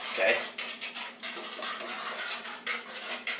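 A spoon stirring a strawberry gelatin gummy candy mixture in a pot, with a rapid series of light metallic scrapes and clinks over a few seconds, close and moderately loud.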